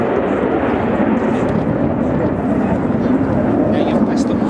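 Tornado GR4 jet at the RAF Leuchars air show, a loud sustained roar of jet engine noise filling the sky, with commentary heard over it.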